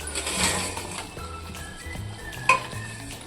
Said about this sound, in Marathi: आणि हे सगळे मुटके मी आता ह्या भाजीमध्ये मिक्स करत आहे.